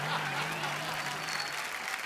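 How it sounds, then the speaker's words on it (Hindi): An audience claps together in a steady, continuous patter for a couple of seconds, with a faint voice tone running underneath. "तो आप सबकी जोरदार तालियों के बीच"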